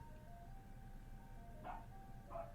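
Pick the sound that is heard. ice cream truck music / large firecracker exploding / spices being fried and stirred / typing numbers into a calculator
ice cream truck music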